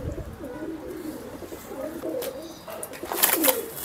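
Teddy pigeons coo softly in low repeated calls at close range, with brighter chirps and scattered bird sounds rising toward the end.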